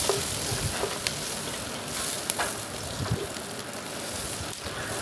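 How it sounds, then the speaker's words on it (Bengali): Eggs fry in oil left over from frying fish, with a couple of cardamom pods added, giving a steady close crackling sizzle broken by small scattered pops. "এবার আমি এখানে ডিম ভেজে নেব।"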